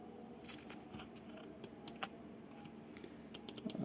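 Quiet, irregular keystrokes on a computer keyboard while a design is typed, sparse clicks scattered across a low steady room hiss, a few sharper taps near the end.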